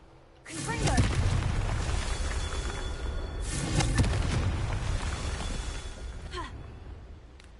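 Hogwarts Legacy's Confringo fire spell lets out a booming fiery blast followed by crackling roars, then a second heavy burst, loud and close with a rumbling fade.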